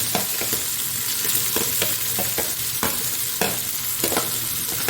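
Onions stir-fry in a pan for vegetable fried rice, a loud, close sizzle broken by regular scraping spatula strokes and tossing sounds every half second or so.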